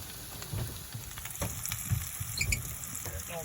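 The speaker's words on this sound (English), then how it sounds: "So we got some onions in the pan." Onions frying in a pan aboard a sailboat, a faint crackling sizzle with scattered pops and light clinks close by.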